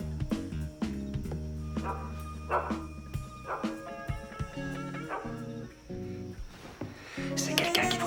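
A dog barks a few times amid tense background music in a French feature film, the barks sounding sharp and somewhat distant against the soundtrack.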